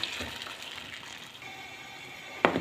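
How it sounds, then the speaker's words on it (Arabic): Boiling water is poured over crab in a pot for crab soup, a steady close gushing pour lasting throughout, ending with a sharper splash near the finish. "بغلي ميه وبحط الميه على الكابوريا علشان اخد احلى شوربه"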